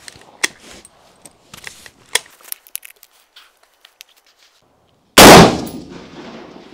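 A Chinese M4-style rifle at a shooting range: light clicks and handling noises, then one sharp, loud gunshot that rings out and fades with a trailing echo.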